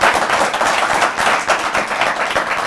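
A studio audience at a weekend talk show breaks into loud, sustained applause, with dense clapping continuing steadily without pause.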